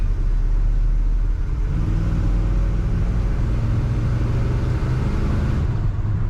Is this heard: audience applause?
no